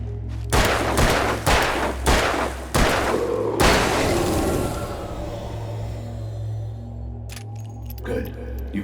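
Five loud, evenly spaced gunshots ring out one after another in Alan Wake, each with a sharp crack and a lingering echo, over a low droning hum.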